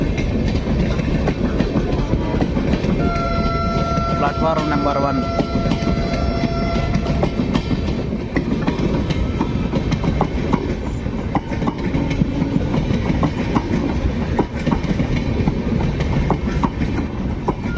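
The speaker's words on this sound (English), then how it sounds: "Dharmaram to Machilipatnam Express is coming into Anantapur railway station." The Dharmavaram–Machilipatnam Express rumbles steadily into Anantapur railway station with clattering wheels, a horn sounding briefly near the start, while a short station announcement plays over the noise.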